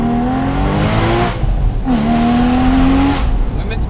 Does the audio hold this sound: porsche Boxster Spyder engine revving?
yes